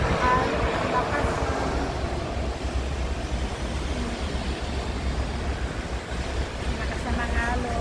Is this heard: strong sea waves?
yes